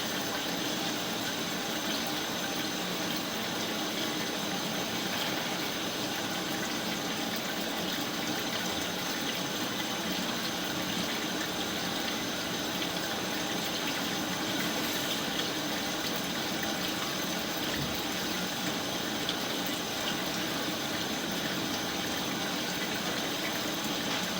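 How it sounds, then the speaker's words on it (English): Water runs hard and constant from bathtub and sink taps in a house, a dense, steady rushing that holds throughout with no talk over it. "I've got the tub on and the sink."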